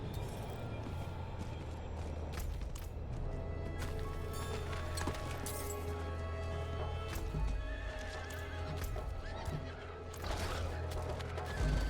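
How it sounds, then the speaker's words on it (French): A horse in Diablo IV whinnies and neighs loudly, with clip-clopping hooves and game ambience underneath. Several bursts of neighing are heard across the stretch, fairly close and clear, with no talk over them. "Ah, incroyable, j'ai un cheval."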